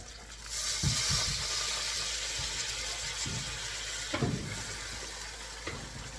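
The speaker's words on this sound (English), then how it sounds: "I'm just gonna add a little bit of water." Water poured into a hot pan of seared salmon in gochujang sauce, a steady sizzling hiss with faint liquid splashes and a few soft knocks, close and fairly quiet, with no talking.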